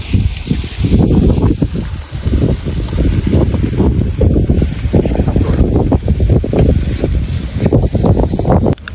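Strong wind roars and buffets across open sea, a loud, steady rush with a boat's low hum underneath.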